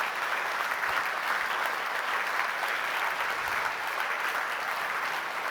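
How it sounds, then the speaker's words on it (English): An audience applauds steadily in a room at an ESA event marking ExoMars Trace Gas Orbiter signal acquisition, with dense, sustained clapping that holds an even level from start to finish. "I think this deserves a bit of applause"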